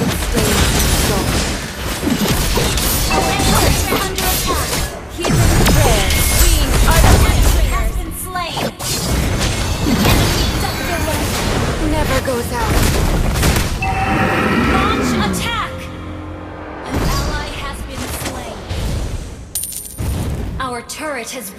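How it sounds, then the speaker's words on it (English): Video game battle audio as an allied turret comes under attack and is destroyed: continuous loud booms, crashes and clattering impacts over roughly twenty seconds, with a game announcer voice speaking in places. "Turret has been destroyed."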